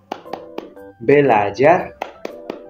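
Rhythmic hand clapping in a clear pattern of sharp claps, a few at the start and a few at the end, with a spoken chant between them.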